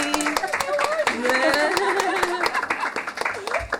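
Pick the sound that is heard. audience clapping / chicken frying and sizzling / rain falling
audience clapping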